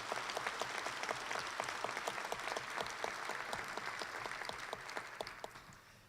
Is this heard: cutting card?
no